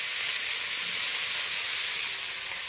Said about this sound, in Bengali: তো এবারে বিনস ভাজা হচ্ছে।